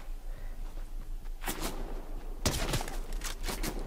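SMG gunfire in the video game Fortnite, two quick rapid bursts of shots, the second longer, over a steady low game background, moderately loud.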